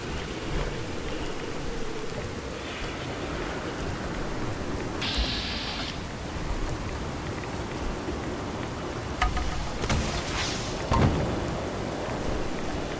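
Steady rain and rumbling thunder of a red storm in a Fallout video game, a constant wet hiss with a few brief sharp crackles and distant booms, with no talking over it.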